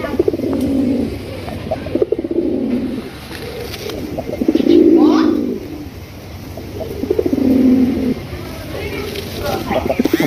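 Light sky-blue Rajgolla fancy pigeons coo in deep, rolling bursts close by, three main swells across the stretch with quieter murmurs between them, and someone talks over parts of the cooing.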